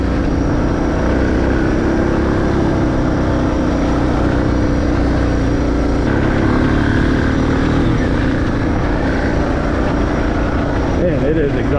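A dual sport motorcycle engine drones loud and steady while riding, with a downshift change in pitch partway, wind rush over it and the rider talking at times.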